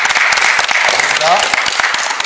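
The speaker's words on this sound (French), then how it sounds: "Donc la 6e personne, on va l'applaudir" An audience applauds loudly and continuously for a person being introduced, dense clapping filling the room with a brief voice faintly underneath.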